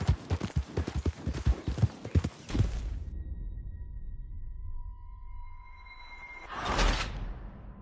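Horse hooves clip-clop in a quick, even gallop in the Red Dead Redemption 2 video game, then fall silent. A low hum and a brief swoosh follow.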